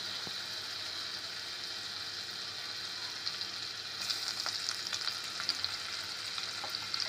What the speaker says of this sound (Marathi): आणि आता थोडासा बटर पण टाकते मी. तेल टाकलेलंच आहे आणि वरून बटर पण टाकायचा.